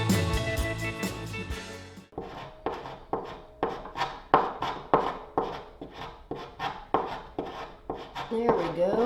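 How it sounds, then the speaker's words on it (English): Hand scraper stripping lacquer from a solid pine coffee table, a loud run of about a dozen rhythmic rasping strokes, each a short scratchy burst, after a brief clattering start. "So I tried my Quinn scraper to remove this lacquer"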